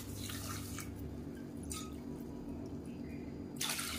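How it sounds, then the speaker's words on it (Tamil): Water is poured into a pressure cooker while making black urad dal porridge, producing a faint, steady trickle and splash with a few brighter splashy bursts, quiet and close. "இப்போ நம்ம எடுத்த கப்லேயே பார்த்தீங்கன்னா ஒரு 3 கப் அளவுக்கு தண்ணி சேர்த்துக்கலாம்."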